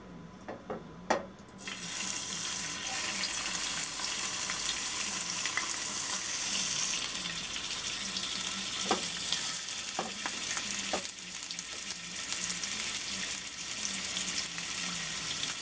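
Bacon-wrapped scallops fry in coconut oil in a pan over medium-high heat, giving a steady bright sizzle with a few faint clinks and stirring sounds along the way.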